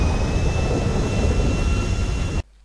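Small airliner in GTA V taking off for Sandy Shores, a loud steady roar of jet engines with a faint high whine, continuous and close, cutting off abruptly near the end.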